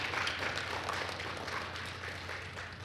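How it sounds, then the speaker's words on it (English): Audience applauding a CARIFTA Games athletics team at a team reveal ceremony, a steady dense wash of many hands clapping that stays loud throughout, tapering slightly toward the end. "Give them a round of applause"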